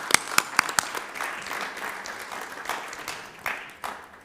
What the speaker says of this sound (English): So please an applaud for all the people behind the scenes.